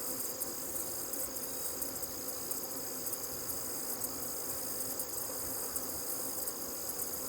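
Honey bees hum around an open hive during tending and honey harvesting, a steady dense buzz close by, even and unbroken with no voices.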